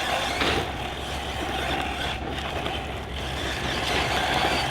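A stock Team Corally Python 6S RC buggy running on a 4S LiPo, a loud, steady broadband motor whine and tyre rush that holds level throughout without pause, close up and with no voices.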